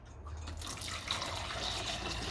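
Homemade bone broth pours into jugs with a soft, continuous liquid gurgle and splash, heard close and fairly quiet for a couple of seconds.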